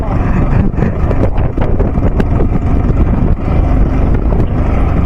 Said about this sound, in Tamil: வண்டி சவுண்ட் பாத்தியா?